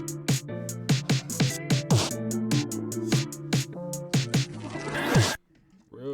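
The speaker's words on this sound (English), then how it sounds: "All together, the intro sounds like this with all these effects and stuff." A hip hop beat intro in a trap style, layered with effects: rhythmic, punchy hits and sustained tonal layers build steadily before cutting to near silence at the end, loud and with no talking.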